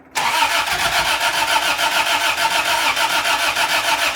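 A 1986 Toyota Tercel wagon with a swapped 3A-C engine cranks and catches after a brief silence, settling into a loud, steady, rattly rough run that holds for about four seconds with no talk.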